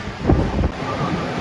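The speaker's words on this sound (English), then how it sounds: "it's a bit windy and chilly out here now" Wind gusting across an outdoor patio by a boardwalk bar at an amusement park beside a beach on a chilly opening day, a steady broadband rumble buffeting the microphone with a stronger gust near the start.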